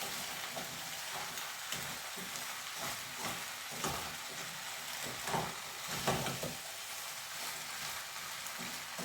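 Rhubarb softening in a pan with butter and caster sugar, a quiet continuous sizzle and hiss with occasional soft stirring scrapes, steady and fairly faint.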